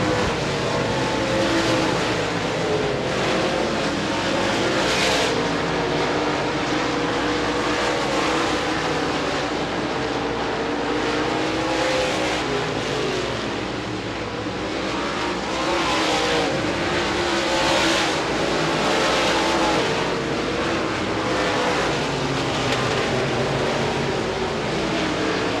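USA Modified race cars roar around the Devils Bowl Speedway dirt oval in a dense, continuous engine wall, with several cars passing close and swelling and fading as they go by, loud throughout.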